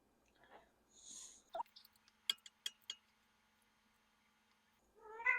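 A house cat meows a few times, faint and close, in a quiet kitchen during cake baking, with soft clinks and taps between the calls and a louder meow at the end.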